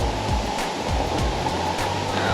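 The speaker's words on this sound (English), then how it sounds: "We took all those stairs just to come and see the waterfall." A waterfall near Ushuaia, Argentina, gives off a steady, dense rush of falling water that stays even and fairly close throughout, with no clear voices over it.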